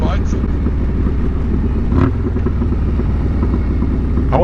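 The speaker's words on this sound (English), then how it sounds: "Oh, there are them bikes." Motorcycles pass on a road, a steady loud engine rumble with passing surges, heard from among riders on Harley-Davidson motorcycles on the Foothills Parkway; a voice speaks briefly over the engines.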